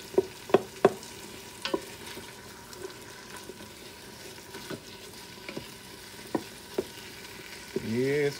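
Beef stew with onions and leftover roasted sweet pepper cooks in a pot, giving a low steady simmering sizzle broken by scattered sharp clinks of a spoon against the pot, with no talking.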